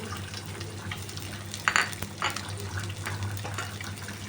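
Bay leaf, radhuni and grated ginger sizzle in hot oil in a pan, a steady soft hiss with brief crackling spurts, moderately close and without talk.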